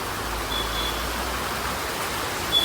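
Steady, even hiss of rain falling, a constant wash of noise with no voices and little variation throughout.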